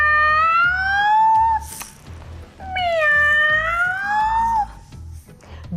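Two long, drawn-out cat meows, one after another, loud and close, with a soft rhythmic musical backing underneath, as a sound effect in a children's story about two large cats chasing mice.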